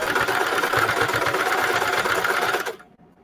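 A sewing machine stitches down the side seam of a pair of jeans during an embroidery embellishment project, running steadily and loud without talk before cutting off near the end.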